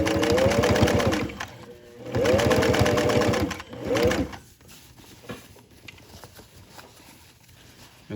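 Sewing machine stitching a pants hem through layered fabric, running in three slow, steady bursts of whirring stitches separated by short pauses, then falling quiet with faint handling noise.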